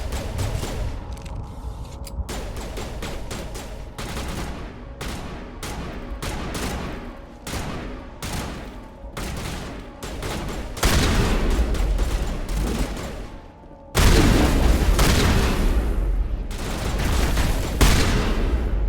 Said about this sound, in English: Alright, shotgun it is.